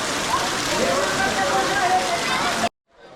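Steady rain hisses loudly and evenly at Bhimashankar temple, a dense close patter that cuts off abruptly near the end, leaving near silence.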